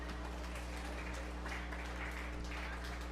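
Soft applause from an audience at a 4-H fair beef show for a young exhibitor's steer, faint and steady under a constant low hum from the arena.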